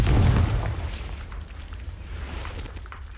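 Confringo fire spell in Hogwarts Legacy bursting into a deep, loud boom that fades into a rumbling, crackling tail over a few seconds, with no talking.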